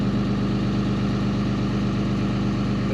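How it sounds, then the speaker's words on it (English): Car engine idling at raised RPM during a cold start on a cold day, a steady, even mechanical drone with a low pulsing throb, close and constant throughout with no talk. "They raise the idle up to warm it up faster, I guess."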